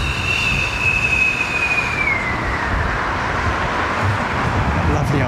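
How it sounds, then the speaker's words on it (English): An old aircraft engine at London Heathrow Airport gives a loud, steady high-pitched whine that slides lower partway through, riding over a continuous broad roar for the whole stretch. "Motor up here, man. Sounds proper old school. The high-pitched whine,"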